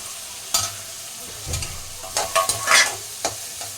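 Tomato and onion sautéing in a pan for a wheat rava vegetable kichadi, with a soft sizzle under several close, sharp stirring scrapes and clicks spaced irregularly; no talking.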